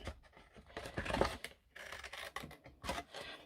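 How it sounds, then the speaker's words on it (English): Scissors cutting card stock for a pop-up card, heard as three close, crisp snipping strokes with short pauses between them and no talk. "I'm just using scissors for speed. And you cut down to that line."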